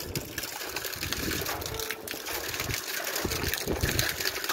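Water gushes steadily out of a water pump, a loud continuous rushing splash close by with irregular surges, and no clear talk.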